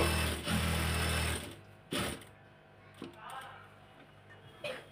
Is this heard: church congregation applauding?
no